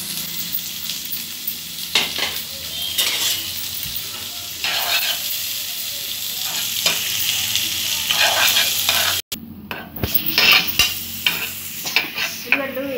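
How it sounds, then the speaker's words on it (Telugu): Onions, green chillies and curry leaves fry in hot oil with a steady close sizzle, broken by repeated scraping stirs and a brief pause near the end. "ఉల్లిపాయలు పచ్చిమిర్చి వేస్తున్నాను"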